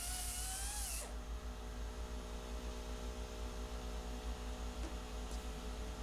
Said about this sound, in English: That's my 80 grit disc.